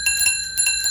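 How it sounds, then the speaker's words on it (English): A toy bicycle-style bell rings in a series of bright metallic dings with steady sustained overtones, struck several times in quick succession, close and clear with no talking over it. "I can't ring the bell."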